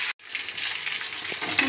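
Potato pieces fry in hot oil for an egg curry, giving a steady bright sizzle with a brief pause at the start and occasional stirring clinks, close and continuous.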